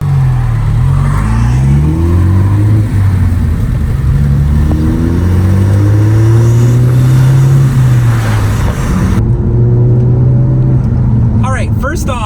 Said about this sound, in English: you definitely do hear more turbo sounds, especially with the windows down